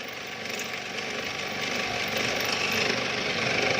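Drill boring into a metal part during a cracked-thread repair, a steady grinding, whirring drone held at close range for the whole stretch with no talk over it.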